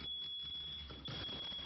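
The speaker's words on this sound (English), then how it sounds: "Is it a fire alarm?" A fire alarm in a house keeps up a steady, shrill electronic tone at close range, unbroken apart from a brief dip near the end.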